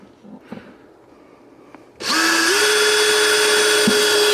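A power drill starts abruptly after a few faint knocks, then whines loud and steady while boring through a panel of a Jeep TJ, its pitch stepping up slightly as it runs.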